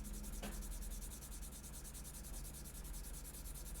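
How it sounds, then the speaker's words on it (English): Steady, close rasping of sandpaper rubbed back and forth in quick even strokes, continuous and fairly quiet. "So let's do a real quick sand on this."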